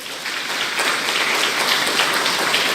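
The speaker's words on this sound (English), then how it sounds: "Please give that a round of applause." A graduation crowd at Monroe College applauds, a broad, continuous patter of many hands clapping at an even level with no voices rising above it.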